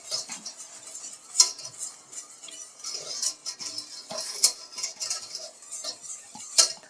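Utensil scraping and clinking against a pan while stirring chicken broth with bouillon, butter and garlic to lift browned bits, for a Marry Me Chicken dish; light, irregular metallic taps and scrapes throughout, close and fairly quiet, no talking.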